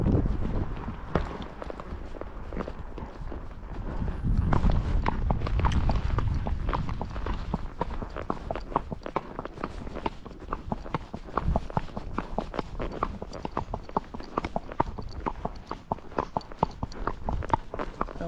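Hooves of a Tennessee Walking Horse on a farm, a steady rapid clip-clop of footfalls continuing for many seconds, close to the microphone, with some wind rumble at the start and no talking.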